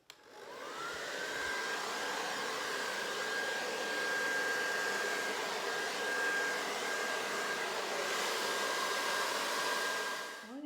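Hair dryer blowing steadily on wet acrylic paint during a galaxy-color fluid pour, a loud continuous whir with a thin high whine running through nearly the whole stretch, then cutting off at the end.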